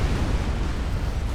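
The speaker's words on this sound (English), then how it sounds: "here comes the nuke explosion" Nuke exploding in the video game Forged Alliance Forever, a loud, sustained low rumbling roar that fills the whole moment without any talk.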